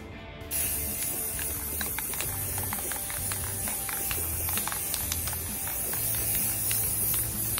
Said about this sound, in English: I think I wanna spray paint first.